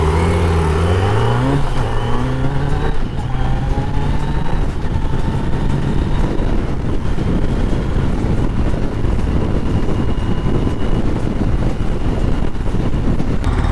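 A 2024 Kawasaki Z900 four-cylinder motorcycle engine revs up in rising, climbing pitches, then settles into a loud, rough, sustained roar with wind buffeting the microphone.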